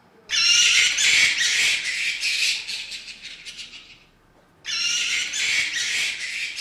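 Shrill, rapid bat cries played as a sound to identify in a quiz show, in two loud bursts of high, rasping chatter separated by a short pause.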